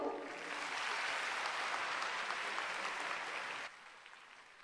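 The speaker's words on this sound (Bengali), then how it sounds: "করতালি হোক" An audience claps steadily at a government Kanyashree Day celebration marking Independence Eve, a dense distant wash of applause that cuts off abruptly near the end and leaves quiet room tone.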